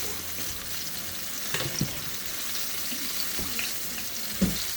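Chicken sizzles and crackles in a frying pan in a home kitchen, a steady quiet frying hiss with a few sharper pops and clinks of cookware.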